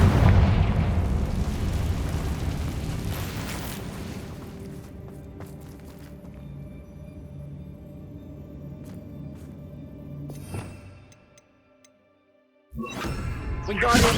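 Confringo explosion spell in the video game Hogwarts Legacy, a loud rumbling blast that decays over several seconds into a lingering hum, followed by a short silence and another burst.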